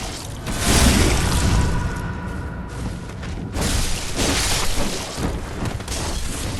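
Molotov cocktails hurled by a witch in Bloodborne's Hemwick shatter and burst into roaring flame, a loud crash followed by a dense, crackling fire wash that swells again midway, with no talking over it.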